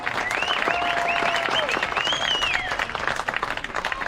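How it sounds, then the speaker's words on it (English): Spectators at a high school softball game applaud the seniors, steady clapping from a small crowd with a few whistles and shouts rising over it, moderately distant and sustained. "let's give the seniors one last round of love with a big applause."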